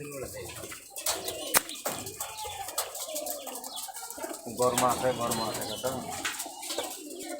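Giribaz pigeons coo repeatedly in a busy spot, their soft throaty calls overlapping with chirps, wing flutters and some background talk.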